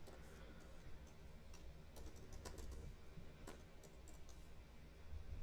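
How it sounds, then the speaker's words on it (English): Code is typed on a computer keyboard, producing faint, scattered key clicks in quick irregular bursts in a quiet room. "So we'll type that out."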